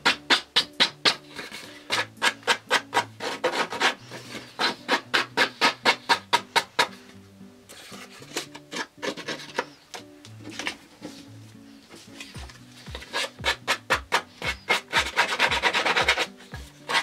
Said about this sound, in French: Je vais gratter un peu les côtés.